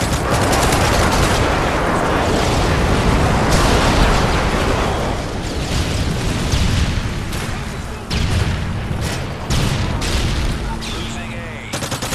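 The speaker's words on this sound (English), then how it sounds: "airstrike on the way." An airstrike in Call of Duty MW3 unleashes dense rattling gunfire and heavy booming explosions, loud and nearly continuous, easing slightly after the first half, with some voice chatter mixed in.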